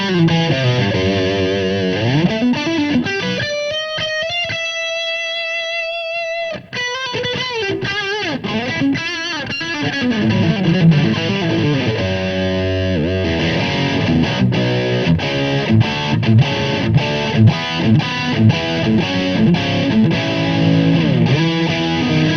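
Distorted electric guitar played through a Marshall Slash SL5 combo amp, loud and continuous with slashing chords, sustained high bends and quick rhythmic picking throughout, no talking.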